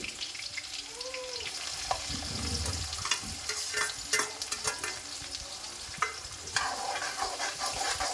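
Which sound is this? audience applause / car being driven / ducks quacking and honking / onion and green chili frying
onion and green chili frying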